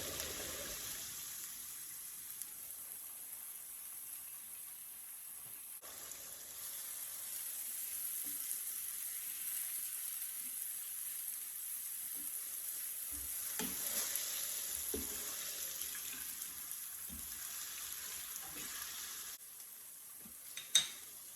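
Onion with a bay leaf sizzling in Portuguese olive oil, a steady hiss of frying running throughout with a few soft stirring clunks and one sharp knock near the end, close and without talk.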